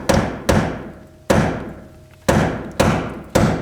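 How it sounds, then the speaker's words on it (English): A hammer strikes a punch to drive out a welded nut during shock replacement on a 1984-2001 Jeep Cherokee XJ: six sharp metallic blows at an uneven pace, each ringing briefly, loud and close with no talking. "used a punch and a hammer to finally get"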